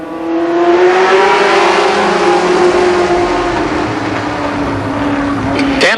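Race cars at Columbus Motor Speedway roar past in a pack, a loud, sustained engine drone close by for several seconds that shifts slightly in pitch as they pass.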